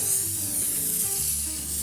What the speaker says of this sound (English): we're just going to use some nonstick spray